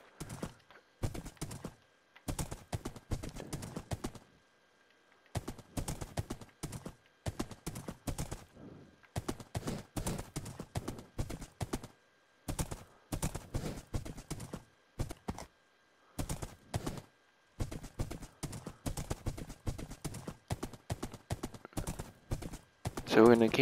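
Blocky clip-clopping of a horse's hooves in the Minecraft video game, repeating in steady bursts with short pauses across the whole stretch, moderately loud and close.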